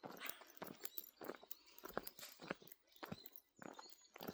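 Horses walking, their hooves clip-clopping in a quick, irregular series of soft, close steps, faint and with no voices.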